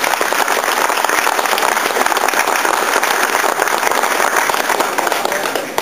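An audience at the opening of a model-railway miniatures show claps warmly and continuously for about six seconds, a loud, dense wash of applause with faint voices mixed in.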